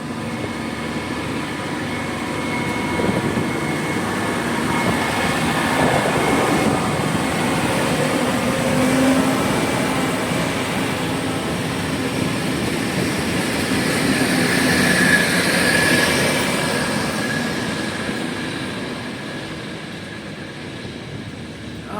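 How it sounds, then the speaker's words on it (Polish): An SN84 diesel multiple unit rolls through a railway station dating from 1846, its loud rumble and wheel noise swelling steadily, holding for a long stretch, then easing away toward the end. "skład spalinowy"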